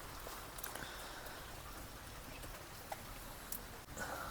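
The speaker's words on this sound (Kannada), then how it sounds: "ಮಳೆ ಇನ್ನೂ ಹನಿತಾನೇ ಇದೆ ಬಟ್ ಲೈಟಾಗಿ ಆವಾಗಲೇ ಜೋರಾಗಿ ಬಂತು ಇವಾಗ ಲೈಟಾಗಿ ಬರ್ತಾಯಿದೆ" Light rain falls steadily outdoors on a rainy day, a soft, even patter of drops with a few louder taps, heard from beside a wood-fired stove.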